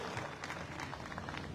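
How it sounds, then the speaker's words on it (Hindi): Audience applause at a mega seminar, a dense steady wash of many hands clapping throughout, moderately loud, with no voices over it. "तालियां कैसे होनी चाहिए?"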